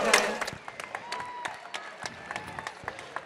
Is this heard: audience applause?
yes